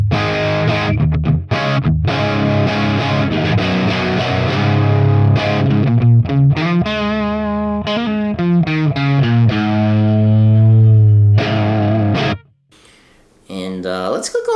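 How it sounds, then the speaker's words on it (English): Distorted electric guitar through a Marshall 1987X 50 Watt Plexi reissue amp model on an Axe FX III, played on a G&L Strat bridge pickup: loud, bright chord riffs with sustained notes, cutting off near the end. "I'm going to kick it over to the bridge, which is a little brighter, and it helps clean things up a little bit"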